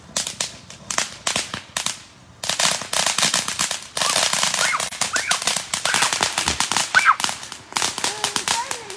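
Firecrackers and fireworks crackle in dense, rapid bursts of sharp pops, close and loud, with a short lull and people's voices and shouts scattered through.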